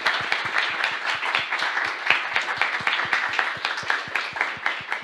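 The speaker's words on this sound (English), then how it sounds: "I would like you to give yourself, and I ask the judges to join me, a big round of applause for making it here." Applause for semi-finalists at a futurEU competition, with judges joining in: close, loud clapping with distinct individual claps in a fast, steady rhythm across the whole stretch.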